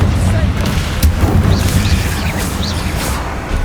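The Confringo explosion spell goes off in the video game Hogwarts Legacy as loud, booming fiery bursts within a dense, continuous wash of game effects.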